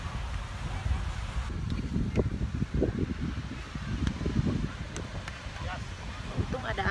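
Steady breeze buffeting the microphone at Maroubra Beach during a beach volleyball outing, a continuous low rumbling wash with gusts, heard beneath scattered nearby voices.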